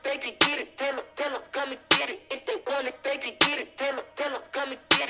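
A trap beat built in Soundtrap plays back with a looping rhythmic vocal-like pattern and a sharp, bright hit landing every bar on beat three, loud and clean with no talk over it.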